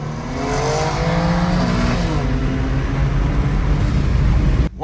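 Kia Stinger and BMW M3 G80 accelerating hard side by side from a dig, a loud sustained engine roar with rising revs, running steadily for nearly five seconds before cutting off abruptly.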